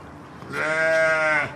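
A single sheep bleats loudly and close by for about a second while animals are being fed on a farm, a sustained wavering cry with no talk over it.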